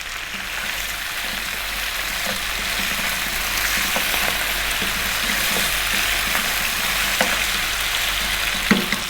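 Cumin seeds and fresh curry leaves sizzling in hot oil for a lamb curry, a loud continuous close crackle with occasional pops and faint stirring, no voices.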